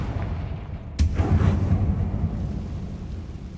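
In a Harry Potter video game, a Confringo spell detonates in a single sharp crack, followed by a low, lingering rumble that slowly fades.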